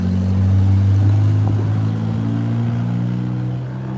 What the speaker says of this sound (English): This car is gonna drive right now.